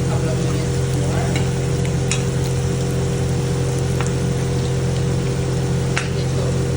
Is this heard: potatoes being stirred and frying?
yes